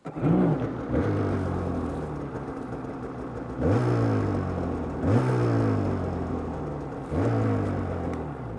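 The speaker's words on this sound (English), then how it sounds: "I must start this snowmobile so you can hear what a Polaris 850 sounds like" A 2025 Polaris 850 Indy VR1 snowmobile engine fires up and runs close by, a loud two-stroke drone with several sharp throttle blips rising and falling in pitch between steady idling stretches, no talking.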